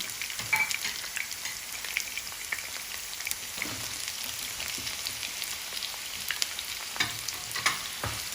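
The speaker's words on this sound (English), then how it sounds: "We are going to fry until it is little crispy." Potato and onion fry in a pan for a Spanish omelette, with a steady soft sizzle and crackle broken by occasional louder pops and stirring scrapes, close and alone.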